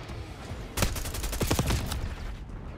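Rapid gunfire from the video game Black Ops 6 during an objective match: a dense burst of overlapping shots and automatic fire erupts suddenly and rattles on for over a second before fading, loud and close.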